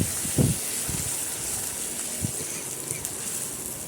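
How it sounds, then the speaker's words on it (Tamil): Ground tomato paste added to hot oil for tomato pickle, giving a steady, bright sizzling hiss that stays even throughout, with a few soft clunks of the pan near the start. "இப்போ இது கூடயே நம்ம அரைச்சி வச்சுருக்கிற தக்காளி விழுதையும் சேர்த்துடலாம்."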